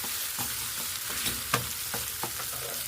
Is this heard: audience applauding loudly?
no